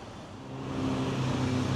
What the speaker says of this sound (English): These temporary traffic lights are making the traffic back up quite a bit